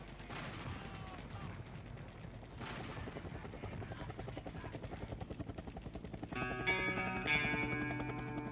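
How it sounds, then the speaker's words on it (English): A helicopter's rapid rotor chop pulses through music, steady and rhythmic, with tonal instruments swelling in near the end. "That helicopter."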